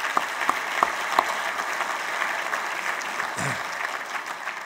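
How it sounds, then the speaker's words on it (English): Audience applause for a former Secretary of the Navy at a national security forum, a steady wash of many hands clapping with a few sharper close claps early on, moderately loud and without talk. "Let's give a round of applause for his former Secretary of the Navy"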